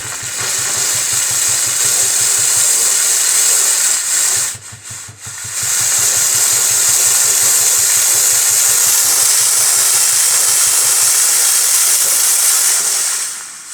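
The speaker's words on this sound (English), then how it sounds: "And now the steam will come out." A Samako Powerclean PRO carpet cleaner releases a strong, continuous hiss of steam close up under a low pulsing motor hum, with one brief break before it resumes.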